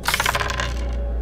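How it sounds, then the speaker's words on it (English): Dice rattle and clatter in a video game, a quick burst of several small hard clicks that settle into a faint ringing tail, with no talk. "Would you like to re-roll the dice?"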